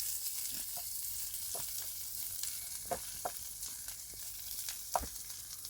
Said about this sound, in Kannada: ಆನಿಯನ್ ಫ್ರೈ ಆಯಿತು.